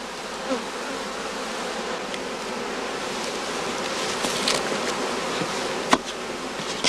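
A thick throng of honeybees hums steadily in wooden Klindworth queen-rearing boxes on a heathland apiary, each box filled with a ladle of bees, the dense close buzz swelling slightly with sharp flicks and taps throughout.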